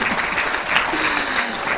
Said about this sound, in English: Do you want to give a big sort of cheer for that?